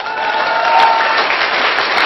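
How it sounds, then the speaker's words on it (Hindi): A seated audience claps steadily through the whole moment, a dense, loud wash of hands with no break and no voices over it. "तुम्हारी योद्धाओं की सी तो ताली ही नहीं है"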